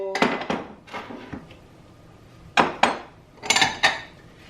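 Ceramic dishes and bowls knock and clink together as they are handled inside a kitchen cabinet, with several sharp clattering bursts in short clusters, close and fairly loud, and no talk.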